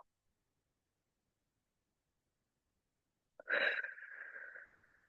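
A deep, breathy exhalation during a stretching workout, sudden and fairly loud after a long silence, then trailing off over about a second and a half.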